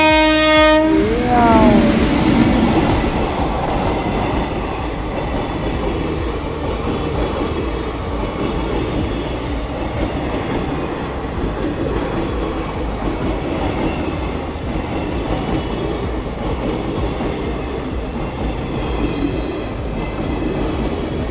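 A train passes a railway crossing, opening with a loud horn blast, then a long, close, steady roar and rumble of wagons rolling by that stays dense and loud throughout.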